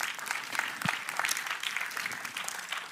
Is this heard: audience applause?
yes